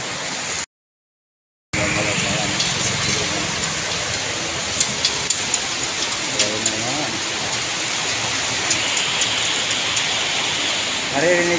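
Heavy rain drumming on a house roof, a loud, dense hiss of drops with scattered sharper taps, broken by a brief dropout near the start; a voice speaks briefly over it.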